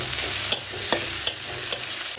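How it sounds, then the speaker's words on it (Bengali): Onions sizzle and crackle in a hot pan, with a few sharp scraping clicks of stirring spaced through the steady frying hiss. "আর একটু পেঁয়াজ ভাজতে দিয়ে দিলাম"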